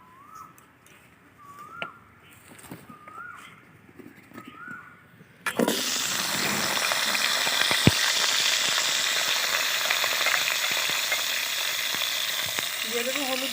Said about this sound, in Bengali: তো আলুটাকে একটু তেলের মধ্যে ভেজে নেব।